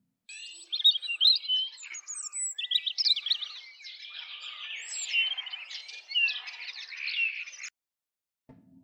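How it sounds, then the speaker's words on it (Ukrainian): A starling sings a long, varied stream of whistles, chirps and rattling trills, played back as a recording. The song is clear and fairly close against silence and stops abruptly near the end. "це шпак"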